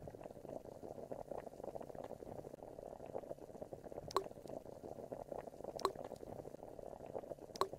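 Soup with vegetables boiling in a pot in the Elinor Wonders Why game, a steady low bubbling burble with a few soft chime blips over it.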